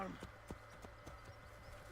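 Faint, evenly spaced hoof clops of a horse walking at a steady pace in Assassin's Creed Brotherhood, a soft game-like clatter with a quiet background hum.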